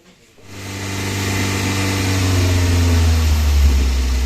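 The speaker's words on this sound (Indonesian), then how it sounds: "mesin sudah nyala kembali normal" A Daihatsu Gran Max engine, just reassembled after white smoke and oil consumption problems, starts and settles into a loud, steady idle with a constant low rumble and hum. The sound is close and unbroken.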